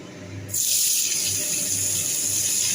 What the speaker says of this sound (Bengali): এবার করলা ভেজে নেব